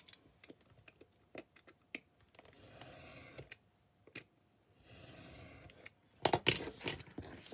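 A knife slices through a paper pamphlet on a cutting board in close, crisp strokes: scattered sharp ticks and taps, two longer scraping passes of the blade through paper, then a louder rustling crunch near the end.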